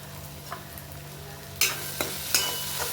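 Tomato chutney with turmeric, salt and spice mix sizzles softly in a pan, with a few sharp scrapes and clinks from stirring over the steady frying hiss.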